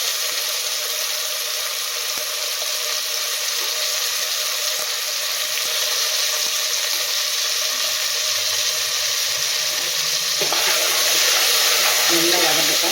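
Chopped tomatoes sauté in a pan of oil for a vegetable mushroom biryani, giving a steady, even sizzle that holds throughout and swells slightly louder near the end.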